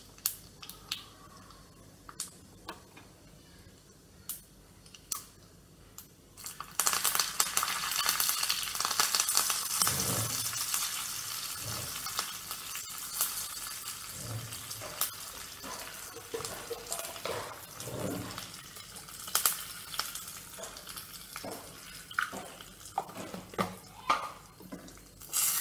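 Spices tempered in hot oil for a jamun rasam make a sharp, steady sizzle that jumps in loudness partway through. Clinks and stirring sounds break through the frying, and no one speaks.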